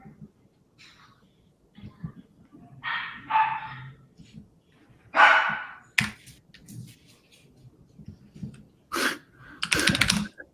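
A dog in a room gives several short barks and yips in scattered bursts, spread among quiet stretches, light keyboard-like tapping and muffled background voices.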